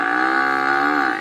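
A buffalo lets out one loud, sustained moo, close and tonal, that holds steady for over a second before breaking off abruptly.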